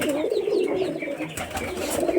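A pair of Rajshahi local Giribaz pigeons coo close by in a steady run of soft, rolling calls, with no talking.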